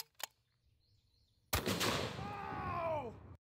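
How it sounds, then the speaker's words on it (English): A heavy rifle fires a single 750-grain A-Square bullet at a T-Rex target, a sharp, loud, close blast after a quiet lead-in, followed by shouted exclamations. "This is a 750 grain A-square dead tough bullet, and I'm going to send it right at Mr. T-Rex."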